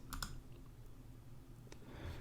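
A couple of quiet mouse clicks on a computer at the start, with another faint click later, over a low room hum.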